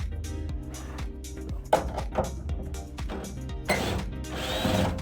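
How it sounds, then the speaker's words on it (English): Power tool loosening bolts from a wooden floor panel inside a van, bursts of whirring and grinding with wooden knocks and rubbing between them, close and fairly quiet. "Meanwhile, Miro started removing the bolts from the wooden floor panel."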